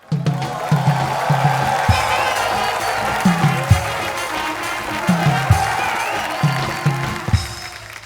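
Live studio audience on a Hindi late-night comedy show clapping and cheering together as a comedian is introduced, a steady wash of applause with a voice or music running underneath.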